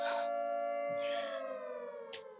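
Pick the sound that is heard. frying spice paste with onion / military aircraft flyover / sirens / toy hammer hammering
sirens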